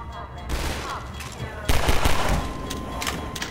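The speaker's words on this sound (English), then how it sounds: "Man, the sound design of this is awesome, too. The pistol sounds amazing." Pistol fire in the video game Half-Life 2, a burst of sharp gunshots layered with other game noise, getting louder and denser partway through, with some talk underneath.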